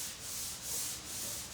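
Continuous sanding of a forged carbon fiber part for a C8 Corvette, a steady close abrasive rubbing with gentle rhythmic surges from back-and-forth strokes, no voices.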